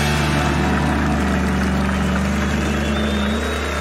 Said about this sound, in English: can you hear their engines are roaring so loud?